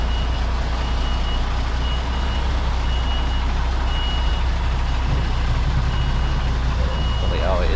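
A delivery truck reverses into a tight loading bay, its reversing alarm giving regular evenly spaced beeps over a constant, loud diesel engine rumble and cab noise.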